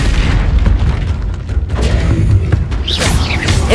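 A blasting spell goes off in a video game with loud, rumbling booming explosions, dense and sustained across the whole moment with a couple of heavier thuds.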